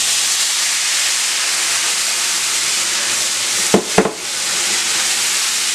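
Blended sauce poured into a pan of sizzling golden Spanish rice gives a loud, steady frying hiss, broken by two sharp spattering bursts close together near the end.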